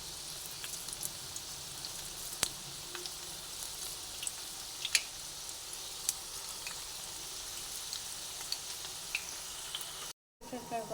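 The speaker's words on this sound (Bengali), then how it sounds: "বড়াগুলোকে সব দিয়ে ভেজে নিচ্ছি" Red lentil fritters fry steadily in hot oil, a continuous crackling sizzle with small pops and occasional utensil taps, close by.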